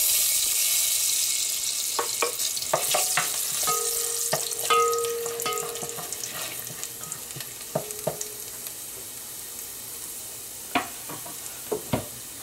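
Ginger sautés in preheated cooking oil with a soft steady sizzle, marked by scattered clinks and scrapes of a utensil and brief tonal kitchen sounds.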